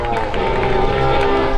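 A beach rugby crowd at an awards ceremony claps and cheers in a dense, steady burst of applause, with a voice over the noise.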